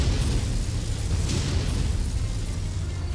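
A loud, sustained rumbling blast fills the whole stretch as a mech bay is destroyed in the MechWarrior 5 video game, a deep roar with crackling bursts and no voices.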